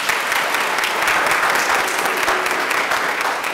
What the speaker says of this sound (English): Now, thunderous applause.